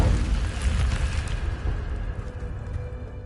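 Incendio fire spell cast in Hogwarts Legacy, a loud roaring burst of flame that surges up and then slowly fades over a few seconds, with no talking.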